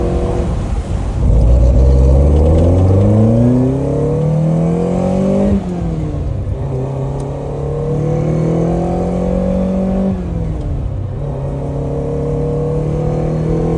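A car engine in a driving video game revs up through rising gear shifts, loud and close, with the pitch climbing, dropping at each shift and then settling into a steady cruise.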